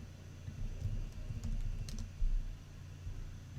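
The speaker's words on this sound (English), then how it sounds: "I'll just type in coffee." Typing on a computer keyboard while entering a search term in a design editor, a quick burst of soft, irregular key clicks over a low steady hum.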